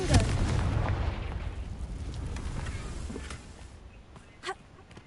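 Confringo blasting curse going off in the Hogwarts Legacy video game: a loud, rumbling explosion at the start that decays over a few seconds, followed by a brief softer burst near the end.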